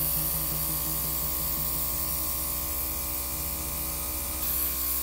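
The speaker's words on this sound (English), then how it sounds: "I'm actually gonna spray his head just like all over a little bit green" An airbrush sprays green paint onto a zombie figure with a steady close hiss over a low motorized hum from the compressor, continuous and even throughout.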